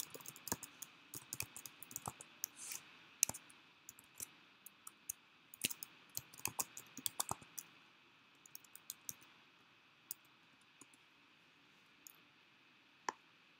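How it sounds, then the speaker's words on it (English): Keys clatter on a computer keyboard as login credentials are entered, irregular quiet clicks in short bursts with pauses, close and soft in a quiet room. "I will type in the credentials."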